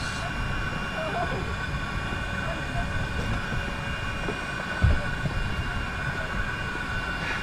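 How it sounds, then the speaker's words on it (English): An air pump inflating a dock on a sailboat runs with a steady low whooshing drone, like a fan, with one brief knock partway through. "So the pump initially will be really low pressure, just like a fan."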